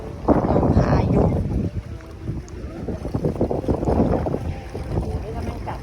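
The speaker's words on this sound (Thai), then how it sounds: "ลมมันแรงไปหน่อยนะ" Strong gusty wind buffets the microphone aboard a fishing boat on the Chao Phraya River, with rumbling and water noise beneath and people talking over it.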